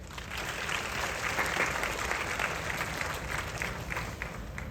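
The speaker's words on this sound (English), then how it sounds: "Let's give them a round of applause for their unwavering support" Applause from an audience at a Pasig City Science High School graduation, steady dense clapping for friends and family, moderately loud and continuous throughout with no talk over it.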